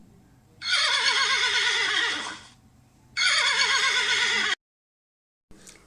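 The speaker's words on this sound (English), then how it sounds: "Horse neighs. Let's listen the sound of horse here." A horse whinnies twice, each a loud, close, shrill and quavering neigh lasting over a second, separated by a short pause, with no talking.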